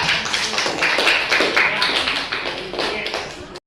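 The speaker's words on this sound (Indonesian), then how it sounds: "Oke, tepuk tangan untuk kita." A classroom audience claps together briefly, a dense close burst of hand claps with a slight rhythmic pulse, fading and stopping abruptly after a few seconds.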